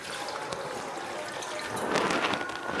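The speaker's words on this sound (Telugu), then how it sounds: "ఇప్పుడు నీళ్ళు అయితే పోసుకుందాం" Water pours into dal with fenugreek leaves in a pressure cooker as a steady, close splashing rush that grows slightly louder toward the end.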